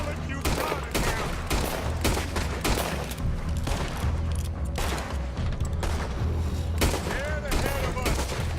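Rapid, dense gunfire in the open-world western video game Red Dead Redemption 2, with repeated sharp shots and bursts close by, overlapping with game sound.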